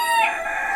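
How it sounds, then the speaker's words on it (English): A small Serama chicken on a farm gives one brief, close, high crow lasting under a second, with no other sound around it. "So these are Serama chickens."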